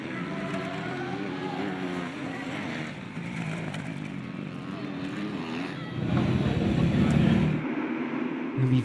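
A KTM motocross bike at the start of a second race heat, MX Elite France 2016 at Castelnau-de-Lévis, heard onboard: a loud, continuous engine roar with wind buffeting, surging harder near the end, while a commentator talks over it.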